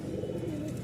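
Pure Rajshahi Giribaz pigeons coo in a low, steady, continuous murmur, close and moderately loud, with faint chirps above it.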